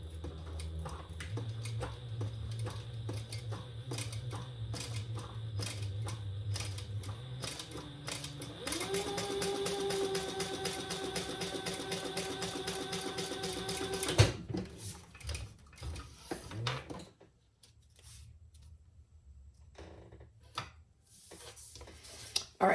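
Industrial sewing machine stitching lightweight fabric: steady mechanical whirring and rapid needle ticking that runs in bursts, speeding up to a sustained high run, then stopping, followed by handling clatter and quieter fabric rustling.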